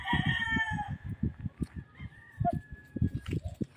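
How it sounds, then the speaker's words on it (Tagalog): A pure bullet broodcock, a fighting rooster, crows once near the start. A steady rhythm of low, repeated thumps runs under the crow and continues to the end. "Ito po yung aking pure bullet na broodcock."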